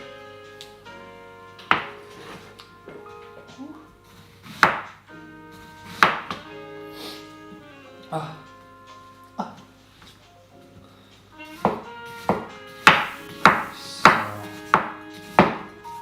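Onions chopped on a board for French onion soup, with sharp knife thuds in uneven bursts, sparse at first and then a faster run of close chops near the end, over soft background music and brief talk.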